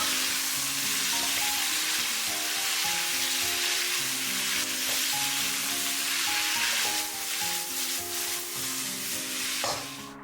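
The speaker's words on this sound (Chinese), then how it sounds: "我们下入切好的青椒丝，翻炒个5、6、7、8下，就可以出锅啦" Cauliflower and shredded green peppers being stir-fried for dry-pot cauliflower make a continuous loud sizzle with stirring noise over steady background music, easing slightly near the end.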